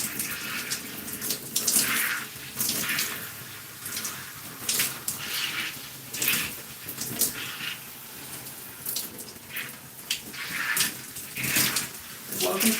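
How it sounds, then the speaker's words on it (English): Tap water runs steadily while hair is rinsed during a wash-and-go routine, a continuous close splashing hiss with uneven surges as the stream hits hair and hands, with a voice talking over it at times. "So I am just rinsing my hair."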